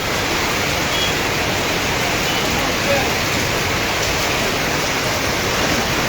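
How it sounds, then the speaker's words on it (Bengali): Heavy rain pours down in Nilphamari in a steady, dense hiss that doesn't let up, loud and close all around. "কোনোভাবেই বৃষ্টি থামছে না"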